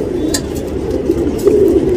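A male ringed pigeon offered for sale coos in low, rolling phrases close by, mixed with faint background chatter and rustling.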